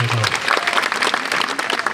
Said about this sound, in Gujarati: એકવારી બધાય ઉમેદવારોને જોરદાર તાળીઓ